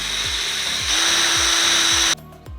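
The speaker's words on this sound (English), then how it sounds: "So I have this wood underneath it so I don't drill into this if I go through it." A power drill bores through wood laid over a backing board, a steady whine that rises in pitch as the bit spins up, then cuts off abruptly, with a few knocks after.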